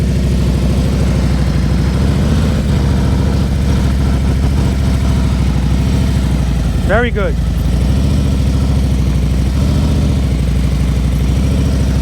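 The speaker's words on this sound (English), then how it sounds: "You hear his engine? Perfect." A motorcycle idles steadily during a slow-speed riding practice session, a constant low rumble throughout with someone speaking over it and a short whistle-like squeal partway through.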